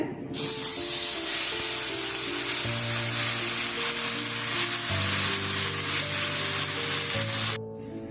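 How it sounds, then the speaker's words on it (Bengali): Onions tipped into hot mustard oil burst into a loud, steady hiss of sizzling that starts abruptly and holds for several seconds before cutting off, close and alone, with a low background hum. "আমি সর্ষের তেল দিয়ে দিচ্ছি তেলটা গরম হয়ে গেছে পেঁয়াজটা ঢেলে দিচ্ছে"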